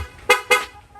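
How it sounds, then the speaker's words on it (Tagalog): Two sharp, loud honks from a PIAA horn fitted to a Honda Click 125 scooter, each blast about a fifth of a second long, sounding close by with a brief gap between them. "Sir, pa-activate naman ng loud horn."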